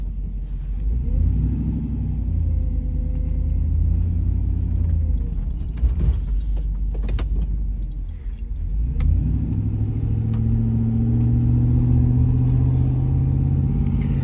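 A truck with a newly installed Max Effort transmission drives with a continuous close engine rumble. It eases and dips midway as it comes to a stop and reverses, then builds again with a rising engine note as it pulls away.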